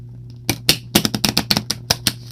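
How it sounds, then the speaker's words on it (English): Crisp, rapid slaps and riffles of tarot cards being shuffled, about a dozen sharp snaps in quick uneven succession, close up over a faint steady hum. "Fewer and fewer cards to shuffle."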